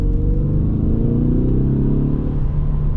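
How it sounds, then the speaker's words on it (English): 2026 Ford Mustang EcoBoost engine holding steady, fairly high revs, giving a close, continuous droning rumble with a slight rise and fall in pitch and no talking. "keeps the revs a little bit higher."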